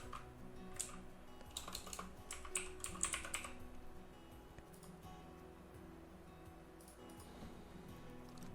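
Quick typing on a computer keyboard, with a close burst of clicking keys at the start and then softer, scattered keystrokes over a low steady room hum, no talking.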